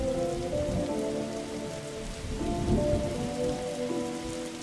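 Steady rain pours in The Darkside Detective game, a dense, continuous patter with a low rumble beneath and a faint tonal music-like layer, no voices.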